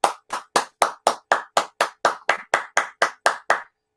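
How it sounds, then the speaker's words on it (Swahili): A single person claps at a steady, deliberate pace, about fourteen crisp, loud claps spread evenly before stopping into silence. "Hiyo makofi bana, makofi."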